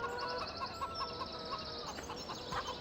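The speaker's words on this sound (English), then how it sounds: "Looks like we got some wild chickens." Wild chickens in the Farming Simulator 17 video game cluck in short, repeated, fairly faint calls over a quiet ambient background.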